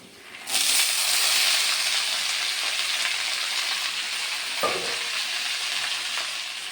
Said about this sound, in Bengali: আমার কলমি শাকও ভাজা হয়ে গেছে